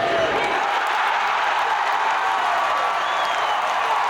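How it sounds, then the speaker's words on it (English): Volleyball crowd at a BYU women's match against Utah, a steady wash of cheering and clapping that fills the clip evenly, loud and distant-sounding, with no distinct single voice. "The crowd's loving it."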